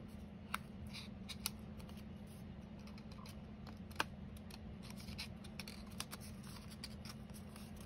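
Scissors snip paper while cutting out a small butterfly card, giving faint, scattered clicks and crisp cuts over a steady low hum.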